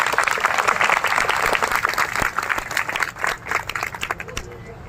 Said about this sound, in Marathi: त्या सर्वांनी परत एकदा हात वर करा आणि या सर्वांसाठी जोरात टाळ्या वाजवा